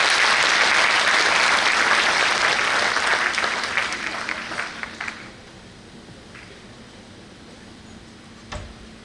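Audience of female students applauding at a question-and-answer session with a Rajasthan BJP president: dense, loud clapping for about five seconds that thins into scattered claps and fades to quiet room tone, with one late isolated knock.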